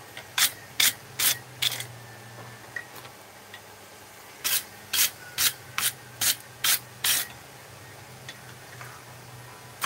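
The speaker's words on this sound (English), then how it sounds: "Let's give it a brush." Quick bursts of wire-brush scrubbing on a freshly forged metal grill tool at the anvil, two clusters of sharp, rhythmic strokes, close and loud with no talking.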